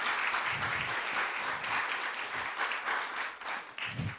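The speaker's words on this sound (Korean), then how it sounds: "우리 귀한 찬양으로 은혜 받았는데 다시 한번 박수 한번 하겠습니다" Korean church congregation at a Sunday morning service clapping after a worship song, a soft, steady wash of applause heard from a distance.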